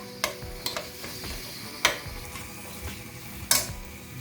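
Biryani masala with ginger, garlic, chili powder and turmeric sautéing in a pan for Dindigul-style lamb biryani, a steady close sizzle broken by occasional sharp scrapes and clinks of a spoon stirring against the pan.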